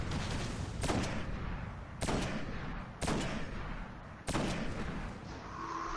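Four heavy hand cannon shots boom at roughly one-second intervals in a video game, over a constant noisy battle backdrop, each blast sharp and loud with a rumbling tail.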